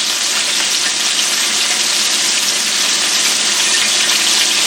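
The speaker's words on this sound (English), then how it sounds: "So there's my bobcat cooking up" Bobcat meat frying in hot grease makes a loud, steady, close sizzle with a constant bubbling crackle that holds unbroken throughout, with no voices.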